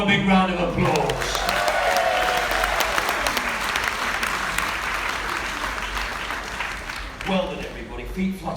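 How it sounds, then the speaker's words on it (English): An audience breaks into loud, sustained applause with some crowd noise; a voice is heard briefly at the start and again near the end, while the clapping carries on beneath. "Give them all a big round of applause."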